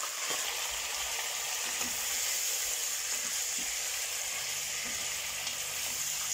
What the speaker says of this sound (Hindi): अभी इसको अच्छी तरह भून लेते हैं